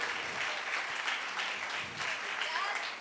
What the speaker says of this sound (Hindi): तालियों की गड़गड़ाहट होनी चाहिए